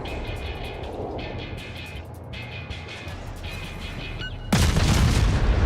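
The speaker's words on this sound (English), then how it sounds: "Here's some more gunfire." Naval guns fire in the World of Warships game from a destroyer's view, a low rumbling backdrop with tonal beeps, then a sudden loud boom that erupts near the end and keeps roaring.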